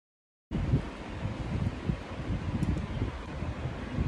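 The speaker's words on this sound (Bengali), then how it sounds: "আজকে ড্রায়ার দিয়ে চুলটা একটু শুকিয়ে নেব।" A hair dryer blows steadily on damp hair, a continuous close-up whoosh of air with a low fan rumble that starts abruptly and holds at an even level.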